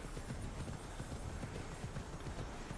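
Horse hooves clip-clopping steadily across terrain in the video game Immortals Fenyx Rising, a continuous close rhythmic trot of hoofbeats over a dense ambient background, with no talking.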